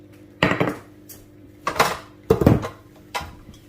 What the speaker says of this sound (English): now what I'm going to do is oil this pan, or bowl rather